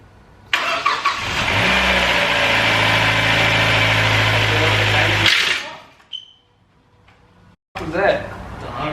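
A rebuilt Mazda MX-5 engine cranks and fires, then runs loud and close for several seconds before cutting out abruptly. Voices follow in the quiet afterward.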